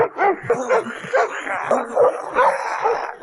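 A guard dog at a castle in a Jackie Chan action film scene lets out a close, rapid run of yelping barks and whimpering whines, loud and uneven in rhythm.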